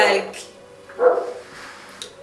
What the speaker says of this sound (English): I'm sorry for the dog that is actually barking.